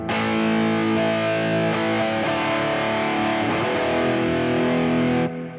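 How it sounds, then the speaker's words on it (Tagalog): Dense, sustained distorted electric guitar played through a Tank-G pedal with IR cabinet simulation engaged, held chords ringing loud and steady for about five seconds before cutting off. "so ito yung tunog ng distortion natin pag na may IR cab tayo or yung cab sim natin."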